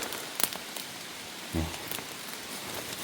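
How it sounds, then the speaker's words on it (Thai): Rain falls on a mountain campsite in a cold season, a steady soft patter with a few sharper drops and one brief low thump, fairly faint and continuous, with no talking. "ฝนตกแล้ว"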